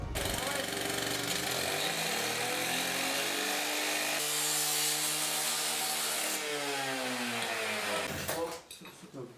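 Rescuers cut through a metal pipe with a gasoline chainsaw, a loud continuous rasping whine that holds steady for about eight seconds before cutting off.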